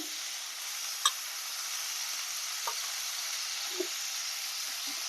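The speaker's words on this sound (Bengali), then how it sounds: "এবার আমি কেটে রাখা নাশপাতিগুলো দিয়ে দেবো" Cut pears and a dried red chili fry in hot oil, giving a steady bright sizzle throughout, with a few faint clicks and taps of a utensil against the pan.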